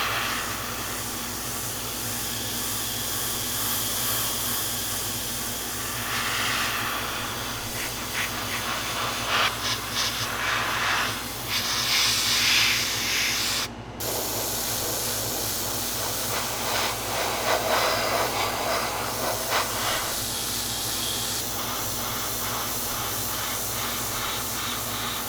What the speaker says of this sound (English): Okay, so it looks like I've got pretty much most of the underside sprayed.